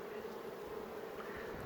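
A steady, faint buzz of many bees at a hive entrance hums without a break, a dense drone close by.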